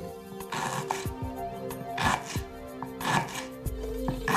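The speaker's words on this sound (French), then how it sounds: "Donc on va couper la citronnelle, à peu près 1 mm d'épaisseur." Lemongrass being sliced into thin 1 mm rounds on a board, a series of crisp knife chops at an uneven rhythm, close and clear over a faint steady hum.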